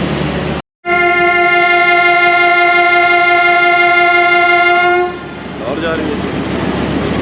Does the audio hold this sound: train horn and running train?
yes